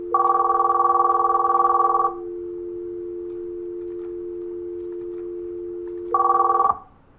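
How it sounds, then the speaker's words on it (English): A Cisco IP desk phone on Unified CM Express rings with a loud two-second electronic trill, falls silent over a steady tone for about four seconds, then trills again briefly before stopping. "Phone is ringing."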